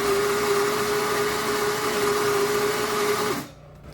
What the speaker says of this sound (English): I'm just gonna grind for a single shot of espresso right now.